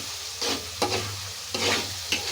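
Gongura dried prawn curry with chopped tomato being stirred in a pan, a sizzling hiss broken by a few distinct scraping strokes of the spoon, close and alone without any talk.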